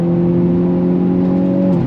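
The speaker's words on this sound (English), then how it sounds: "Release on throttle, here we go. Nice fast shifts" Hyundai Elantra N with an 8-speed DCT launching hard, its engine a loud, steady, harmonically rich drone that holds throughout and dips slightly in pitch near the end, with no talking.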